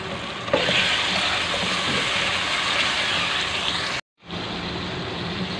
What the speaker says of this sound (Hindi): तो थोड़ा सा पानी डालती हूँ।